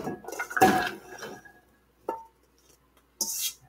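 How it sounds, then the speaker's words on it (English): Root vegetables tossed into a casserole dish, a clattering tumble of pieces hitting the dish, then two short separate knocks after pauses, close and fairly quiet. "I've got a casserole dish here. And I'm just going to toss everything into that."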